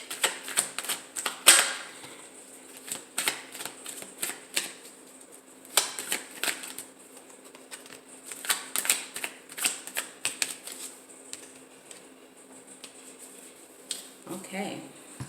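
Tarot cards being shuffled and handled in irregular bursts of crisp riffling and tapping, close and fairly quiet, with a person speaking softly over the activity.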